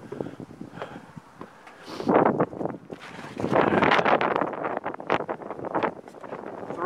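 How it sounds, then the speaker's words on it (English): Wind gusting hard around a roof under repair, a rough, rushing buffeting on the microphone that swells and fades in uneven surges over several seconds, close and fairly loud, with no talk. "this wind's supposed to be tomorrow, not today. I'll be fighting the wind today."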